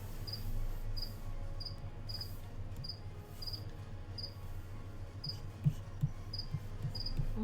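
A cricket chirps in short, evenly spaced bursts, clear and fairly close above a quiet low background hum, with a few soft taps toward the end.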